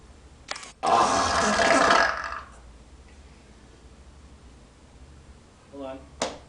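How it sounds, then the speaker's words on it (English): A long, loud burp bursts out close up for over a second and trails off, followed by quieter rumbling and a short final belch, with no talking over it. "I challenge anyone out there that can try to beat my burp, okay? The longest and loudest."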